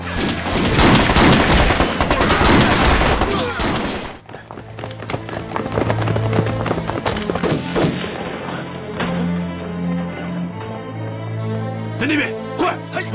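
Gunfire volley bursts out loud and dense in a wartime film scene, a rapid fusillade of shots for about four seconds, followed by scattered thuds and background music under talk.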